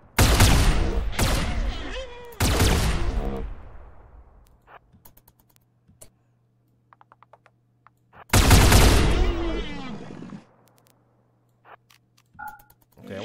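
Gunfire in a Rimworld battle with Warhammer 40k Imperial Guard troops, heard as dense crackling volleys in two loud bursts near the start, a quieter stretch of scattered shots, then another heavy burst.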